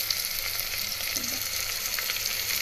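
Coconut pulao base with tomatoes and salt in a pan gives a constant close sizzle with occasional stirring scrapes, dense and even from start to finish, with no voices.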